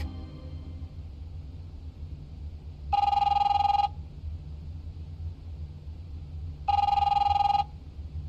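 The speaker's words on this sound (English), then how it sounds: "You can answer your phone." A telephone rings twice in The Wolf Among Us video game, each ring a loud, bright, roughly one-second electronic burst separated by a pause, over a low rumbling ambience.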